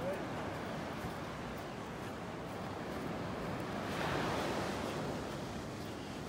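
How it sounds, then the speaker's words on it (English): Ocean surf washes onto the beach at North Naples, Florida in a steady, broad hiss and roar, swelling slightly midway, with some wind buffeting the microphone. "Get you over closer to the water so you can hear some more of those wave sounds."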